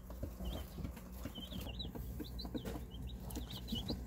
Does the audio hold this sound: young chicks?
yes